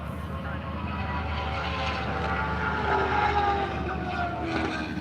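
A 2016 BMW S1000 RR and a Kawasaki ZX14 race past on an airstrip in Hondo, Texas, their engines a loud, sustained roar that swells slightly midway and holds, with no voices over it.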